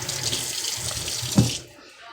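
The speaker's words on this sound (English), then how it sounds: "So wash my hand." Kitchen tap water runs steadily as hands are washed at a sink, a close, hissing stream that stops abruptly near the end.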